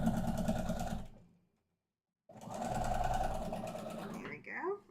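Sewing machine stitching, a loud close mechanical whir that runs, stops briefly during a needle hang-up, then resumes, with a person speaking near the end.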